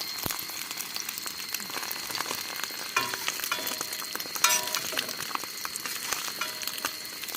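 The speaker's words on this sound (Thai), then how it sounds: "น้ำมันน้อยครับ จะเป็นไข่ดาวให้เปล่าไม่รู้นะครับ" Two eggs sizzle in a pan with only a little oil, a steady crackling fry with faint spits and pops that continues throughout, close and moderately loud, with no speech.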